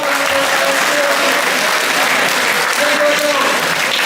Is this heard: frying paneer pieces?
no